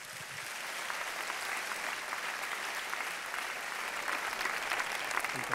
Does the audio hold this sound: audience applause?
yes